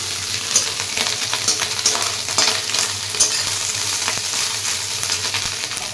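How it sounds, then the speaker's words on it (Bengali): Fish frying until crisp in hot oil, a steady dense sizzle with faint stirring clatter running throughout, close and moderately loud with no talking. "একটু কড়া করে না ভাজলে না খাওয়া যাবে না এই মাছ ভাজগুলো"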